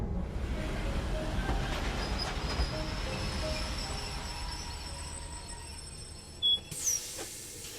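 A train rumbles past steadily in the game Love and Deepspace, with a continuous low roar, faint wheel squeal and metallic rail clatter throughout, then a sharp high screech and a couple of louder clanks near the end.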